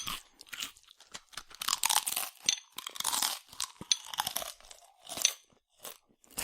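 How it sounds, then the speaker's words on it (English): Potato chips are crunched and chewed close up in irregular bursts of crisp crackling, with short quiet gaps between bites and no speech. "I have broken into the chips."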